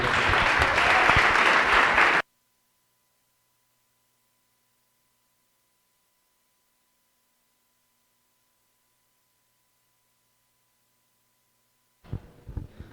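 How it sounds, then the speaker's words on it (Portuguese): A church congregation bursts into loud applause during an evening service, a dense wash of clapping that lasts about two seconds before cutting to silence, with a faint sound returning near the end. "Dê uma salva de palmas para esse Deus."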